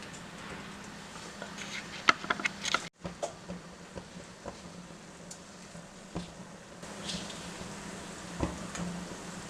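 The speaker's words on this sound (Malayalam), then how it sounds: "വെളിച്ചെണ്ണ നന്നായിട്ട് ചൂടായി കഴിയുമ്പോൾ അതിലേക്ക് കടുക് ഇട്ട് കൊടുക്കാം." Mustard seeds crackle and spit in hot coconut oil, a continuous sizzle with small scattered pops and clicks, close and fairly quiet, with a brief gap near the third second.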